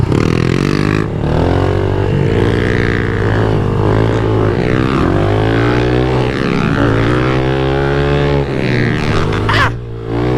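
A pit bike engine screams loudly on a backyard dirt track, wavering in pitch as the throttle rises and falls through a ride with wheelies, close to the microphone with no talking.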